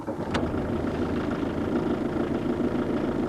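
A diesel engine fitted with a Bosch VE distributor injection pump runs with a steady, mid-pitched drone at moderate loudness, with no pauses or changes in rhythm.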